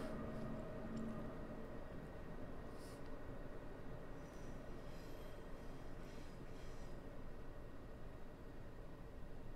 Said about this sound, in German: So, die S-Bahn fährt ein.